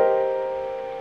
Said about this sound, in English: The second inversion has the G in the bass and sounds like this.